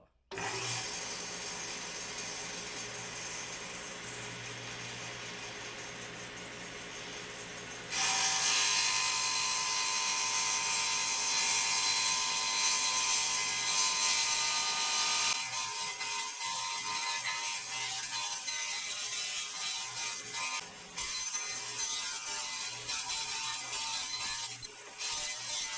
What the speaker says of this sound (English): Put our hearing protection on and flash up the saw.